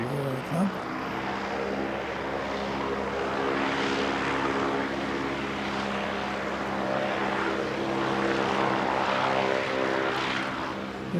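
A propeller aircraft drones steadily at an aero club, its engine a continuous loud buzz with a strong low hum that swells slightly over the stretch. No voices come through over the noise.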